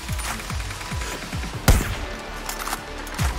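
Gunfire in the video game Far Cry New Dawn comes as a steady string of shots, one sharper, louder blast standing out midway, all near and without talk over it.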